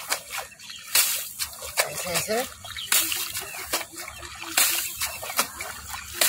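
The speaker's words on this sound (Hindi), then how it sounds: "इसके लिए डंडा ऐसे पानी में चुभुक चुभुक किए" A wooden stick is repeatedly jabbed and stirred in water, giving irregular splashes and sloshing with a few sharper plunges, while someone talks throughout.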